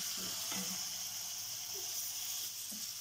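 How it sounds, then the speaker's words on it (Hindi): Chicken frying in about three spoons of hot oil gives a steady, moderate sizzle, with a few soft low knocks and a voice faint in the background. "अब हम इसमें चिकन डाल देंगे"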